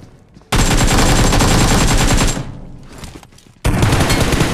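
Rapid automatic gunfire from a fierce firefight in the battle royale game BGMI, loud sustained bursts that cut off abruptly, a quieter gap with distant shots, then another heavy burst.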